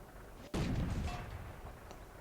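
An M4 Sherman tank's main gun fires once in World of Tanks, a single sharp, loud boom that rolls off into a fading rumble.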